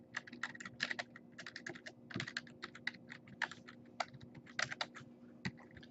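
Keys clatter on a computer keyboard in quick, uneven bursts of typing with short pauses, close and fairly quiet in an otherwise still room.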